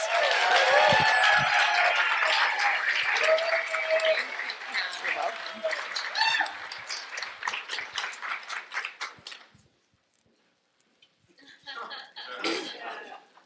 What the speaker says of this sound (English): Please welcome her with raucous applause